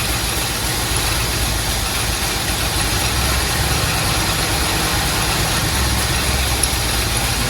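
A 1981 Oldsmobile Delta 88 engine idles steadily, close and loud, with a low continuous rumble and a slight rise in revs, with no talking.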